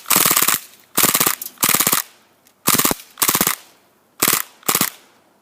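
An airsoft Mac-11 fires full auto at 900 RPM in seven sharp, rapid bursts. Each burst lasts about a quarter to half a second and is separated by short pauses. The bursts are loud and close, with no talk.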